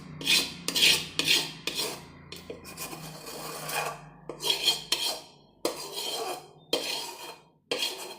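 Khoya mixture for gujiya being mixed in a bowl, a spoon scraping and rubbing against the sides in irregular strokes with sharp clinks, close and fairly quiet, no talking.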